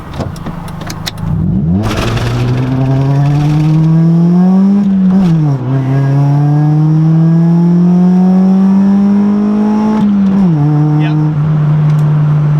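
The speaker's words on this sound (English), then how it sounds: "I don't even know how high I revved it up" A stock EG-generation hatchback with a 1.5 engine accelerates hard from a stop, revving high through several gears, with rising engine pitch broken by brief dips at each shift, loud and close throughout.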